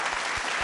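A studio audience on a Kurdish TV quiz show claps in a brief, dense burst of applause, steady and loud throughout.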